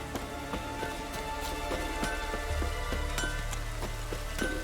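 Steady rain falls in Witcher 3, a dense, even patter of drops on surfaces with scattered sharper taps, continuous and moderately loud over a low ambient rumble.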